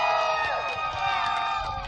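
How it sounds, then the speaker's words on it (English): A West Virginia crowd at a GNCC motorcycle race podium cheers for the winner, a dense wash of voices, whoops and shouts sustained throughout. "a big cheer from this West Virginia crowd"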